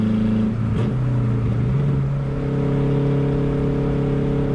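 Turbocharged Honda Civic Si engine accelerating hard from close range, a steady mid-pitched drone whose tone climbs then holds, with turbo whir over continuous engine noise and no talking.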